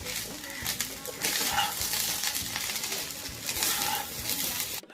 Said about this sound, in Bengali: এবার এর মধ্যে ভাতটা দিচ্ছি অল্প অল্প করে।